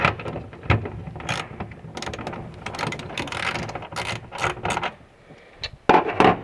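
A ratchet clicks in short bursts while loosening the four 8mm tail light bolts on an FRS/BRZ, with light rattling and handling noises between; close and fairly quiet, with no talk.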